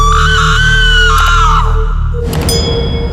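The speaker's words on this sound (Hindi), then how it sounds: "इस बार ये चीख बिल्कुल साफ साफ सुनाई दी।" A long, shrill scream in a jungle horror drama rises and wavers, loud and close, then breaks off into a harsher noisy burst.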